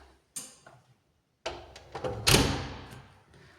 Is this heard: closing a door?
yes